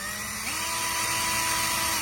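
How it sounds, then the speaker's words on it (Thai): BKK 85V cordless impact drill with its motor spinning freely, a close high-pitched electric whine that steps up in speed early on and then holds steady. "ตัวนี้ก็สามารถหมุนซ้ายหมุนขวาได้นะครับ"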